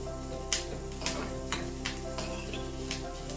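Chopped onions for egg masala sizzle steadily in a pan, with faint periodic clicks of stirring scattered over the continuous frying hiss.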